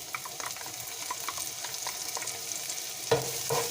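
Minced garlic and ginger sizzle softly in an oiled pan while being stirred, a quiet crackling fry with a few scraping clinks near the end.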